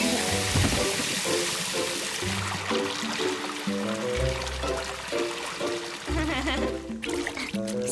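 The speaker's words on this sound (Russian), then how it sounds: "Хелли, можешь включить подачу воды в бак?" Cartoon water pouring into a tank in a Robocar Poli episode, a continuous gushing stream set beneath bright musical tones.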